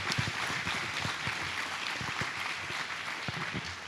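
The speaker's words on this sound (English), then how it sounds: "let's give them a great round of applause" An audience at a food producers roundtable gives a panel a soft round of applause, a steady patter of many hands heard somewhat distant and faint.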